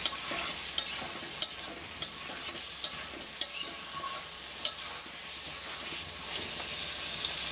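Potatoes sautéing with turmeric and chili powder sizzle steadily in a hot pan, with a spoon scraping and knocking against the pan in irregular strokes every second or so over the constant frying hiss.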